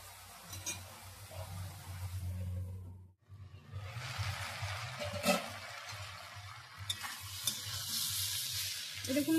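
Cauliflower stalk mixture for chhyachra frying on low gas heat, giving a steady soft sizzle with stirring scrapes; a brief quiet gap comes near the three-second mark, then the sizzle resumes and brightens toward the end.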